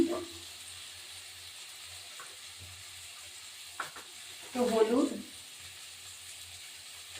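Potatoes fry in oil alongside small fish, morola and parshe, giving a faint, steady sizzling hiss with a brief louder flare as someone talks over the pan.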